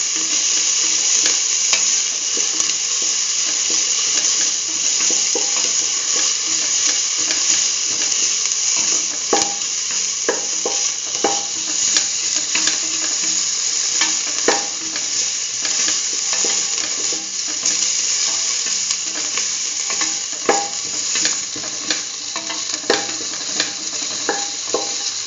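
Onions and ginger saute in a pot for a Hausa potato and soya chunk stew, giving a steady, close sizzle with occasional scrapes and clinks of a stirring utensil against the pot throughout.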